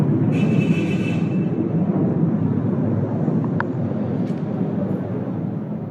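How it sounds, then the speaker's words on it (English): Israeli warplanes fly over Beirut while dropping flares, a broad, steady distant roar of jet engines rumbling throughout, with faint high whine and a couple of brief sharp sounds, no talking. "That's the sound of Israeli warplanes flying over Beirut and dropping flares on Thursday"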